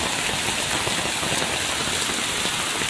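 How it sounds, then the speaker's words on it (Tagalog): Heavy rain pours down during Super Typhoon Hanna, a dense, loud, unbroken hiss of downpour and water rushing off roofs and gutters, with no gaps throughout. "Sobrang lakas yung ulan."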